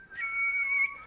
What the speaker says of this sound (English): if you whistle inside your mouth like this